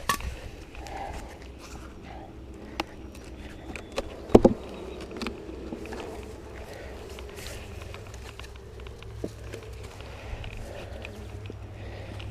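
Honeybees buzz around an open hive during an inspection, a faint, steady hum under scattered clicks and handling knocks, with one brief louder clatter near the middle.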